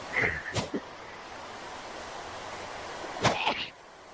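Two short, sharp bursts, one near the start and one near the end, over faint steady outdoor noise, like quick sneezes.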